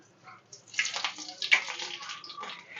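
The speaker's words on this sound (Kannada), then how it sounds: "ಸಾಸಿವೆ ಹಾಕ್ಕೊಬೇಕು." Mustard seeds drop into fully heated oil and crackle, a dense sizzling hiss that builds after a quiet start and holds steady, close and moderately loud, while shavige uppittu is cooked in a home kitchen.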